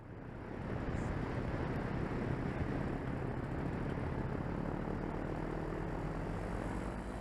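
A small propeller airplane makes a low-level pass, its engine drone rising in quickly and holding steady and loud for several seconds as it sweeps by close overhead, with no voices.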